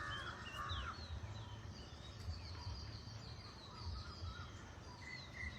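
Small birds chirping and calling around a village in Jaffna, scattered bright tweets and short trills over a soft, steady outdoor background, moderately faint and without talk.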